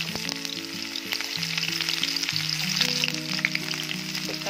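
Spices hit hot oil in a wok for an Assamese pork and mustard greens dish, giving a steady, close crackling sizzle with dense popping throughout and a low clatter underneath.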